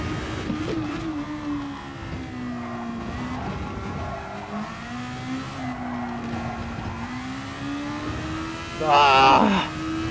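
A Tanso Formula car in a racing video game at the Nurburgring GP circuit, its engine droning steadily with pitch rising and dipping through gear changes, and a burst of tire squeal near the end, with someone talking over it.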